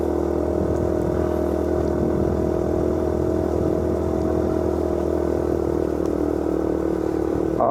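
A vehicle engine labouring uphill in second gear on a narrow, overgrown old mountain road between Sarangan and Tawangmangu, a steady close drone with faint rattles and no talk.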